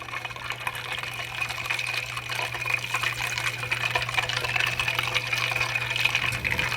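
Five millilitres of 5% dilute acetic acid poured into a small graduated cylinder during a museum chemistry demonstration: a steady liquid trickle and fizz runs for several seconds over a constant low electrical hum, with no talking.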